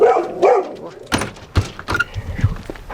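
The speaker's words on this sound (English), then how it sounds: "What are you barking at?" A couple of sharp dog barks close by, following a brief soft whine, with thumps and a little background noise.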